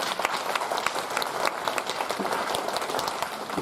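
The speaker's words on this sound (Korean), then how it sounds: "하나님 앞에 영광의 박수 한번 돌리고 싶은데 같이 하겠습니다." Church congregation clapping together in sustained, dense applause, loud and close, with a few voices faintly mixed in.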